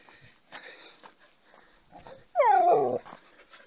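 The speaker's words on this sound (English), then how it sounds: "I don't know where this dog come from." A dog on a street in Jordan gives a single loud bark or yelp near the end, after faint background sounds and quiet voices.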